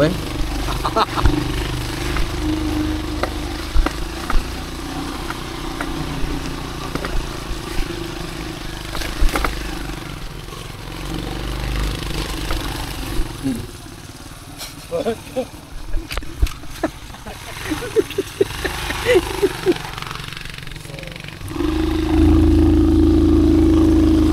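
An off-road motorcycle engine running on a rough trail, a steady low drone that fluctuates with revs and swells louder near the end, with people talking over it.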